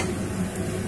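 Chopped garlic sizzles in a hot pan while a utensil stirs it, a steady low frying crackle with soft scraping throughout, close and even, no voices.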